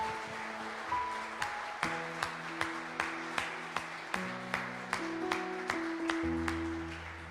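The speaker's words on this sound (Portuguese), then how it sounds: "Vamos aplaudir o nosso Deus, Ele merece." A church congregation claps in a slow regular rhythm, roughly one clap every three quarters of a second, over sustained organ or keyboard chords, faint and distant-sounding.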